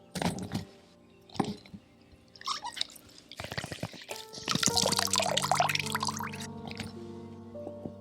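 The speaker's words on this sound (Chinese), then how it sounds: "然后呢，冲洗干净，散除多余的水分。" Running tap water splashes and drips over cut eggplant pieces being rinsed in a bowl, starting with scattered drops and clatters, then a steadier close stream of pouring water with wet handling noises toward the end.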